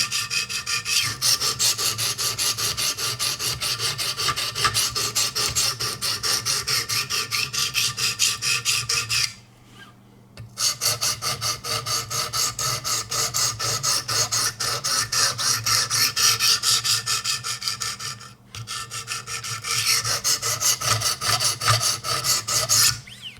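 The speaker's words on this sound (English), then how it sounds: "This is kind of what I call the grinding stage. Got to grind a lot of this away" Buck 110 knife steel ground on a Wicked Edge sharpener: steady, close, rapid back-and-forth rasping strokes run continuously, broken by two brief pauses.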